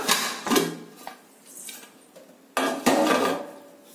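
Metal clanks and scrapes as a heavy pressure cooker lid is opened, a few knocks and a louder clatter near the end, with a soft hiss in the background.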